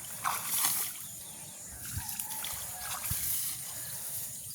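Rainwater trickles and splashes across a flooded village paddy field during heavy rain, a soft continuous watery patter with a few brief louder splashes, close by and with no talking.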